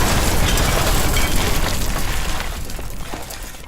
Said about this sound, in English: I added quite literally the sound of an explosion.